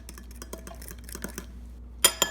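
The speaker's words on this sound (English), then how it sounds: "Add it into the egg yolk. Mix that mixture together." Egg yolk mixture being mixed in a bowl while baking a pavlova, heard as scattered soft utensil scrapes and taps, ending in two louder clinks against the bowl.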